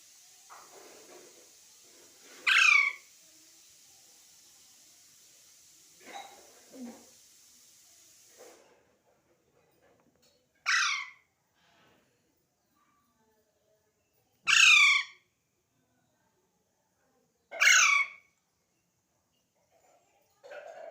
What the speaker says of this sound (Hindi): ये पहाड़ी तोते होते